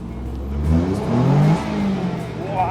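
A Morgan Super 3 three-wheeler engine revs while driving on the road, rising and falling pitch sweeps over a steady rumble, close and fairly loud, with wind noise around it.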